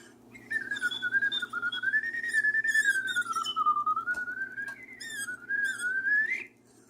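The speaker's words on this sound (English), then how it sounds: "The bird cat whistle?" A continuous warbling whistle from a bird cat whistle toy slides up and down in pitch, chirpy and birdlike, with soft clicks and trills layered on top, close and fairly loud.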